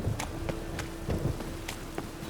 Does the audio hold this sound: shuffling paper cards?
no